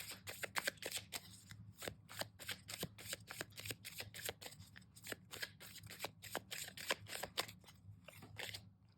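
Tarot cards being shuffled and drawn from a deck, a steady run of crisp riffling snaps and slaps, close and fairly loud, continuing throughout with no talking.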